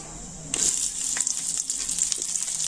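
Onions dropped into hot oil with cumin seeds, a quiet pause giving way to a sudden burst of bright sizzling that settles into steady, close crackling with small pops.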